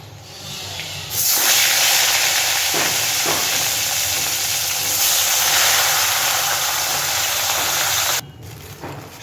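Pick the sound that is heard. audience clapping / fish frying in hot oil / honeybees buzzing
fish frying in hot oil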